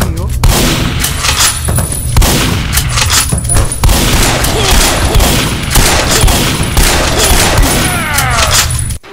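Dense, loud gunfire from the video game Operation Black Square fills nearly the whole stretch, a steady barrage of shots and blasts with little pause and a faint voice now and then underneath.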